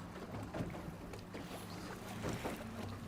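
A sailboat motoring in toward a marina entrance in Fiji, a low steady engine drone with water wash against the hull and light wind buffeting, continuous and fairly quiet.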